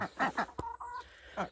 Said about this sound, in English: Mr. Cockerel's at it.